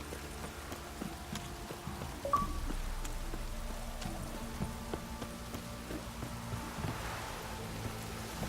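Rain falls steadily in the video game The Witcher 3: Wild Hunt, a soft continuous patter under a faint low hum and a brief tonal chime, with no voices.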